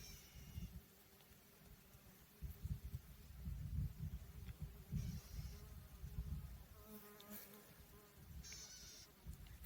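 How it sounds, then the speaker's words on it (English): Soft, continuous buzzing of bees on flowers outdoors, faint and fluctuating, with bees passing close at moments against a quiet background. "Got some bees buzzing on the flowers."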